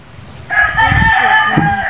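A rooster lets out a single loud, close crow on a backyard poultry farm, the call rising and holding for over a second before trailing off.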